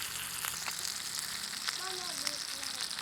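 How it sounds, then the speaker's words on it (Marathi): Tilapia fish pieces fry in a pan with a steady, close, hissing sizzle that holds at an even level throughout, with a few faint tonal sounds in the background. "आता मस्तपैकी मासा फ्राय झालाय"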